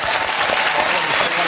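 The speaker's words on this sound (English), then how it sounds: "A round of applause for the tattoo, ladies and gentlemen." Studio audience at a comedy quiz show applauding, a dense, steady burst of clapping that stays loud for the whole moment.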